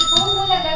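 A bell rings once at a birthday party, its bright tone sustained and slowly fading for under a second, loud and close.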